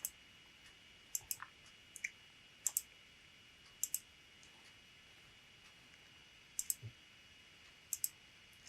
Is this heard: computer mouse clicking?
yes